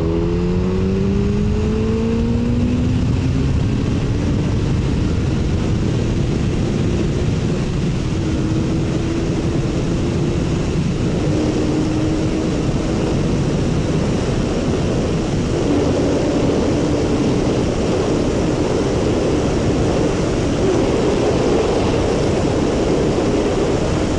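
A full-power Yamaha FZ1 motorcycle accelerates on the throttle while riding, its engine note climbing repeatedly through the gears under heavy, constant wind rush.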